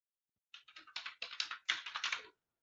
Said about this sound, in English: So type simple command remove